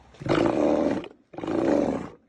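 A Steller sea lion gives two long, loud, deep roars, each about a second, separated by a short pause, close and alone.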